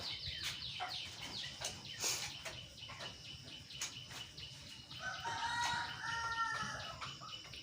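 Desi chickens kept in a three-tier cage, four birds to a tier, fill the space with steady clucking and scratching while a rooster crows clearly near the end, over a constant low farmyard hum.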